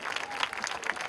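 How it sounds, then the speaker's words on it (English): An audience at a formal event applauding as committee members are introduced, a short stretch of dense, steady clapping at moderate volume. "we cannot stop the applause"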